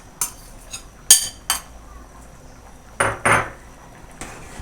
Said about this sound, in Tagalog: Konting halo lang.